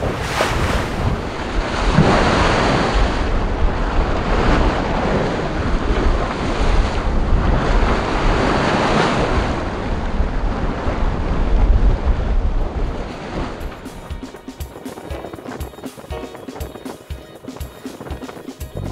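Strong headwind of force 4 to 5 buffets a small sailboat with a 10 hp engine, waves splashing against the hull on the Skagerrak crossing; loud, continuous roaring wind and surf, then choppier, crackling wash near a harbour entrance, no talk.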